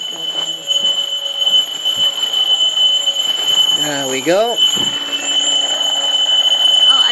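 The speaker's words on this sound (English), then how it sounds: "and it's an alarm clock." An alarm clock in a flat rings with a steady high electronic tone throughout, while a person speaks briefly and a rising squeal-like sound breaks in midway.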